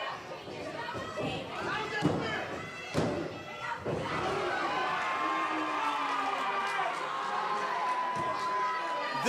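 A wrestling event crowd roars and cheers after a tag team title match move, with heavy thuds from the ring, shouting and chatter, swelling into a sustained loud cheer.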